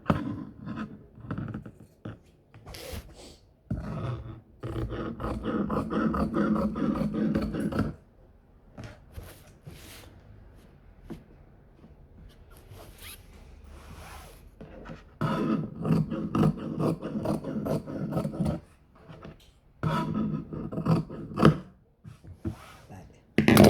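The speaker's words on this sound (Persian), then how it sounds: "الان میبرمش." Scissors cutting through the fabric of a skirt, with bursts of steady rasping snips and rustling cloth that alternate with quieter pauses, close to the listener.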